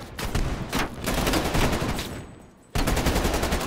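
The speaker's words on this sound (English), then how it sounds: "That hand cannon was beautiful." Heavy gunfire from a hand cannon in the Call of Duty: Cold War campaign, with dense, rapid bursts that fill the clip, a brief drop to quieter rumble near the end, then loud shooting again, with no talk.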